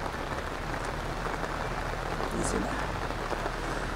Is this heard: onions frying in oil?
no